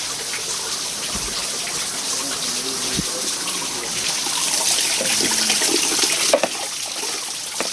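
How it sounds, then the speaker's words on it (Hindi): Steady rushing water from a natural waterfall under a rock in Chitrakoot falls continuously at moderate loudness, a broad wash of sound with faint background voices. "इतना सुंदर यहाँ जल गिर रहा है और यहाँ एकदम प्रकृति का झरना है"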